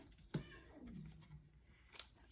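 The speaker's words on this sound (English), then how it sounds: "I have a very pissed off cat, apparently." An angry cat lets out a faint, drawn-out meow indoors, followed by a brief quieter sound, distant and low in level.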